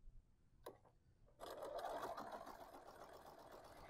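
A sewing machine fitted with a walking foot stitches a folded fabric coaster, starting with a couple of faint clicks and then whirring steadily at close range, running alone without talk.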